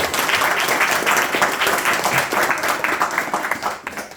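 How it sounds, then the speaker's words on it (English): Group applause at a Bhagavad Gita study gathering, steady dense clapping from many hands throughout, fairly close and even in level, with no pause. "please give a round of applause."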